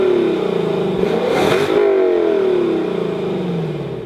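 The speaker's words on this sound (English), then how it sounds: "we show you a 5-liter V8 naturally aspirated engine with around 470 horsepower" A Lexus LC 500 convertible's naturally aspirated 5-liter V8 revs up loudly nearby, the pitch climbing and then sweeping back down as the engine settles into a rumbling idle.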